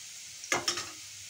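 Garlic frying in a pan makes a quiet low sizzle, broken by two quick close scrapes or stirs around the middle of the short stretch.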